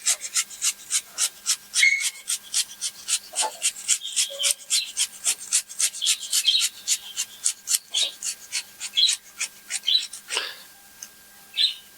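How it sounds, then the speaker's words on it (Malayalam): Potatoes being grated on a kitchen grater for egg cutlet, a steady run of close, rhythmic rasping strokes, about two per second, with no talk. "അതും ഇതിൻ്റെ കൂടെ ഗ്രേറ്റ് ചെയ്ത് കൊടുക്കാം"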